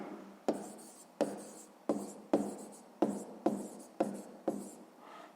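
A pen writes numbers on paper for a sixth-grade maths exercise, eight firm evenly spaced strokes each starting with a sharp tap and trailing into a scratchy drag, close and without talk.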